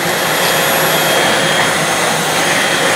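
A Dyson V12 Detect Slim cordless stick vacuum cleaner running, a loud, steady high-pitched whine and airy roar held constantly at close range.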